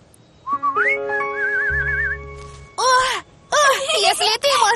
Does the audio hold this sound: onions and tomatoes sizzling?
no